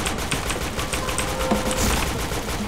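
Rapid gunfire from the shooter game Point Blank, a dense run of close, loud shots crackling steadily through the whole stretch with no pauses and no talk.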